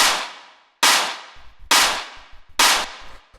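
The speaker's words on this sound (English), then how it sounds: "And then the last layer that we have here would be this clap," A fat, crunchy clap sample from a hard techno track strikes four times at an even pace, each a sharp loud crack with a long noisy decaying tail, punctuated by low thumps between hits.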